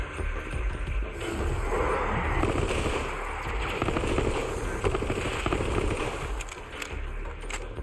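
Dense automatic gunfire and scattered shots pour in at the player during a Borderlands 3 fight, continuous and loud throughout with crackling bursts layered over game music and effects.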